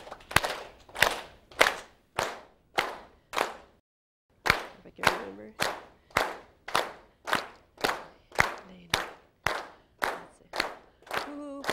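A group claps in unison along to a Hawaiian chant, sharp, evenly spaced claps in a steady beat, pausing briefly before resuming, with a voice speaking faintly between them.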